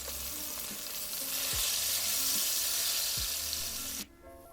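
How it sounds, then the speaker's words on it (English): Taiwanese-style pork chops deep frying in oil at 350 degrees Fahrenheit give a steady, loud sizzle and crackle, with a few clanks and a scrape of a utensil before the frying noise cuts off abruptly. "I'm deep frying them at 350 degrees Fahrenheit for 3 to 5 minutes on each side."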